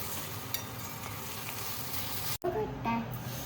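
Grated potato sautéing in a pan for a fasting snack gives a quiet, steady sizzle throughout, briefly cut by a stirring clatter near the end as the shreds are turned.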